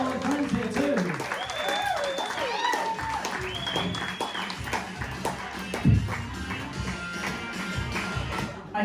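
A comedy club audience applauds and cheers to welcome comedian Kath Solly to the stage. Steady clapping and crowd noise run throughout, mixed with music at first.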